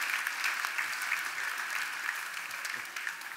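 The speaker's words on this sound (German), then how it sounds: "das ist der Applaus für das Rennen in Hamburg" Audience applause at a triathlon awards ceremony in Hamburg, a dense, even wash of clapping from a crowd that holds steady and thins slightly toward the end.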